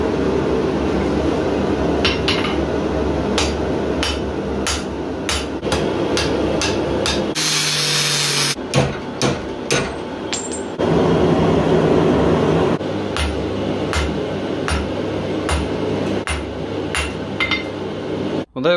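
Hand-forging steel spikes with a hammer: loud, sharp metal strikes land in a steady, repeated rhythm, broken briefly by a short burst of harsher noise before the hammering resumes.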